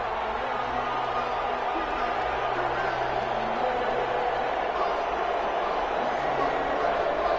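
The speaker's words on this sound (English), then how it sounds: "How about some applause for the defense there?" Crowd applause and cheering in an American football video game, a steady wash of crowd noise running under a commentator's voice throughout.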